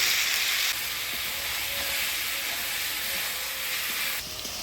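Fried eggplant and egg going into a sizzling spice paste in a pan, a continuous close hiss of frying with faint stirring knocks, the sizzle dropping slightly partway through.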